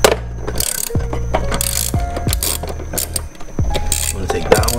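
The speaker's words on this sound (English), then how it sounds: "now what you want to do is remove these two bolts" A ratchet loosens bolts on the intake of a 2006 Toyota Camry four-cylinder, giving quick bursts of sharp clicking pawl ratchet strokes, several close, loud repeats broken by metallic taps and short pauses.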